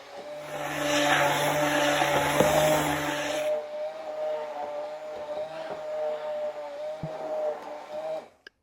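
Blender pureeing bean gazpacho: a loud, whirring motor roar that drops to a lower, steadier hum partway through, then cuts off abruptly at the end.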